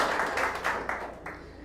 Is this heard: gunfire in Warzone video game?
no